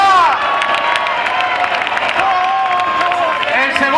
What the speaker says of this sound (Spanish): ¡Fuerte aplauso desde la plaza a todas las peñas!